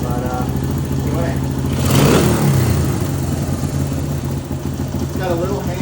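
A 1975 Honda XL125 motorcycle engine running lean idles loudly close by and revs up once, with a brief hang before settling back to a steady idle, while a person talks over it.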